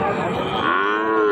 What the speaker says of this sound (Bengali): সবই সার বাছুর।